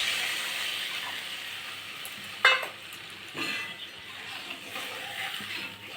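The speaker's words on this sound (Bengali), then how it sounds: "এখন আমি এতে জল দিয়ে দেব।" Water pouring into a cooking pot for a sweet-sour fish roe curry, a steady sizzling hiss with a brief splash near the middle, close and continuous.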